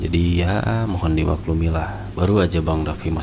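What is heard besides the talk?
No everyday noises stand out.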